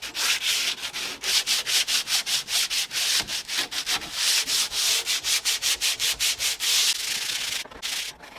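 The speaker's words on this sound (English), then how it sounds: "give it a good sand with my 80 grade" An old painted wooden door is hand-sanded with 80 grit sandpaper in rapid, rhythmic rasping back-and-forth strokes, close and steady, with no talking.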